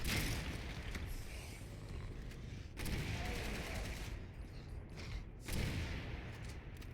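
Grenades fired at a zombie in Resident Evil 6 land as a run of loud, heavy booming blasts, roughly three big bursts with rumbling gunfire and clatter between them, dense and close.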